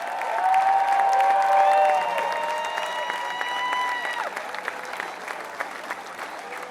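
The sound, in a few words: crowd applause for former basketball players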